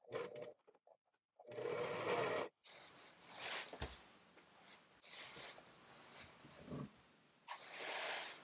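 A serger sewing machine runs in several bursts while stitching a stretchy garment seam with elastic, a close, fast mechanical whir with brief stops between runs.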